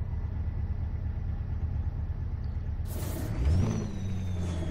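A Mack Titan Superliner truck engine in American Truck Simulator rumbles heavily and steadily, then a sharp hiss breaks in partway through as a deep, rising growl swells, with no talk.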